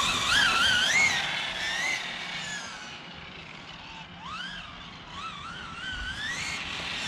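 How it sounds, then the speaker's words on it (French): A 1/5 scale RC Clio 4x4 with a 12S electric drive brakes hard, its motor whine wavering and dropping in pitch before rising again faintly, heard at moderate distance without speech. "Ah, ce freinage maintenant."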